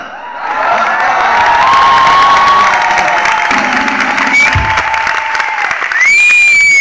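Loud, continuous applause and cheering from a student audience at a university faculty show, with whoops and shouts riding over dense clapping that builds quickly and holds steady throughout.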